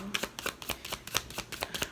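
Tarot cards shuffled by hand, a rapid run of crisp riffling flicks and slaps, close and fairly quiet, with no talking over it.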